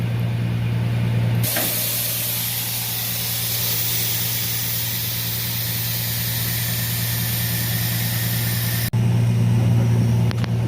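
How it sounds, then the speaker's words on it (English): Truck trailer airbags inflate with a loud, steady rushing hiss of compressed air to raise the third axle, running for several seconds over a low engine hum before cutting off abruptly; no speech. "those airbags collapse, that one airs up"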